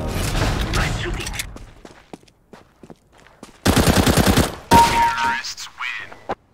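Bursts of automatic and single-shot gunfire ring out in a shooting video game, sharp volleys separated by brief lulls, with a loud rapid burst near the end and a voice talking between the shots.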